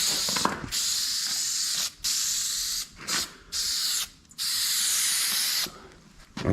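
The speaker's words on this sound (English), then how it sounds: "So we got to spray this and the part that we're going to be actually gluing on." Aerosol spray glue hissing from a can onto surfaces in several long bursts, separated by short pauses, loud and close with no talking.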